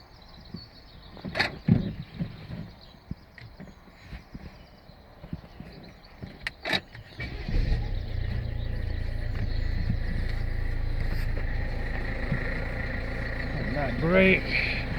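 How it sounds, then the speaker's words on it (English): Citroen C4 Grand Picasso 1.6 HDi diesel, 2016, cranks and starts after earlier handling noises, then settles into a steady, fairly loud idle rumble that runs on to the end. "Start the car."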